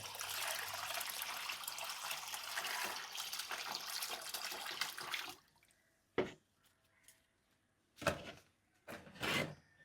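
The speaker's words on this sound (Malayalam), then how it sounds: "കുറച്ച് വെള്ളം കൂടി ഞാൻ ചേർക്കണേ കേട്ടോ" Water pours in a steady stream for several seconds onto orchids, then stops, followed by a few short separate splashes and trickles.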